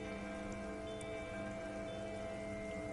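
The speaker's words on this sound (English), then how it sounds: "Rain falls down on the world." Steady rain falls in the Disco Elysium game ambience, a constant even hiss of drops with faint droning tones beneath, quiet and unbroken.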